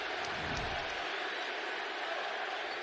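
Basketball arena crowd at an NBA playoff game, Knicks against Pistons, chanting MVP as a player stands at the free-throw line, a dense sustained roar filling the space without a break.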